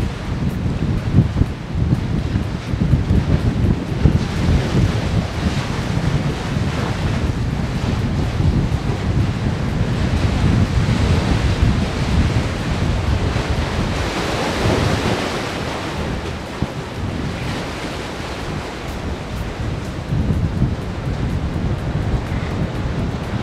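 Ocean surf and cold wind on the sea at Karatsu, Saga, where people were fishing: a continuous loud roar of waves, with gusts buffeting the microphone and no voices.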